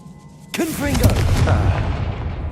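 A Confringo blasting spell goes off in the Hogwarts Legacy video game, a loud sudden boom that rolls into a sustained crackling rumble, with a voice and whooping effect sounds over the start.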